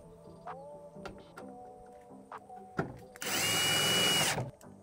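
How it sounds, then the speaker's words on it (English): A power drill fitted with a large Phillips bit runs in short whirring bursts, then one longer burst, driving screws into a tailgate cover close by. "you'll go ahead and screw all the screws down."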